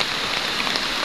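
Steady typhoon rain pours outdoors near a lake and playground, a dense, even hiss of drops hitting surfaces, loud and unbroken throughout with no voices.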